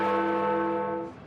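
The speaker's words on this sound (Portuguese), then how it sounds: "Big Ben é o nome de um sino, o maior dos 5 dentro da torre" Big Ben, the great bell in the Westminster clock tower in London, rings with one deep, sustained chime. Its rich overtones hang loud and steady before beginning to fade.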